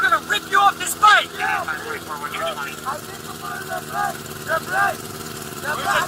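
A motorcycle engine idles with a steady low rumble during a police stop, running under loud, overlapping shouting from several voices.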